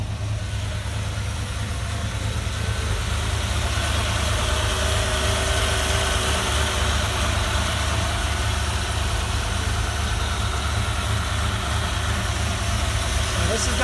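A 1972 Ford Bronco engine idles steadily after starting, a constant low rumble with a faint mechanical whir holding throughout, while someone talks over it intermittently.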